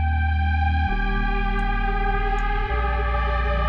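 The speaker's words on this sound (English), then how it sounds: "Just say new instrument layer and it's a sine wave." A plain sine wave instrument layer from the Cloudform synth plugin plays alone as steady sustained tones, the pitch shifting twice with sparse high harmonics, clean and unprocessed.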